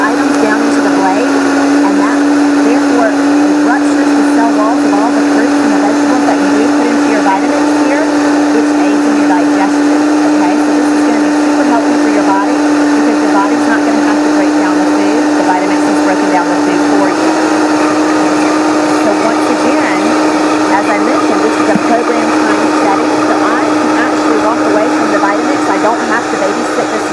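A Vitamix blender running steadily at high speed while blending whole fruit into juice, a loud, constant motor whine that holds throughout with no break.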